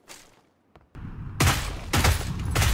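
A burst of rapid gunfire rings out in an online shooter game, loud close cracks arriving in quick clusters after a short quiet gap.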